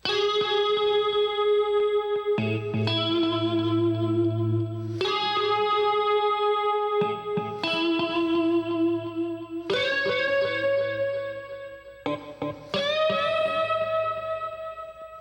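Distorted electric guitar lead playing sustained bent notes in unison, ringing with reverb and echo, phrases repeating over a steady backing.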